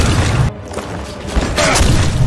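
A pistol shot to the head in the Iratus video game, a heavy booming thud with a brief dip into near silence and then a thumping impact layered over dense game sound, with no talking.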